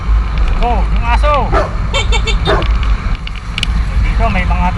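A dog barks several times in quick yips and whimpers on a street, with traffic rumbling underneath and someone talking over it.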